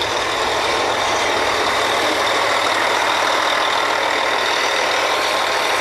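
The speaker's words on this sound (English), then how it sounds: "this is a mud pump, and that's another mud pump." Two mud pumps run steadily on a drilling rig during cleaning, a loud, continuous broadband mechanical roar with a constant hum underneath and no breaks.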